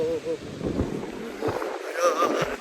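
Strong wind gusts from a super storm buffet the microphone in uneven, rumbling bursts, loud and close, rising and falling over a few seconds.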